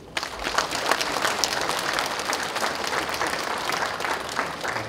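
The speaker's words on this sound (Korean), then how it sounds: "여러분의 장도에 격려의 박수를 보냅니다" Audience applause fills a university spring commencement ceremony hall, steady and sustained dense clapping from a large crowd for about five seconds, with no speech.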